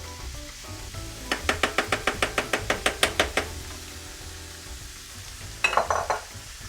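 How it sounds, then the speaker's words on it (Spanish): About 1.5 pounds of ground beef cooking in frying oil in a preheated pan: a faint sizzle under a quick run of evenly spaced taps, followed later by a short, louder scraping burst. "pueden escuchar cómo suena la sartén aquí"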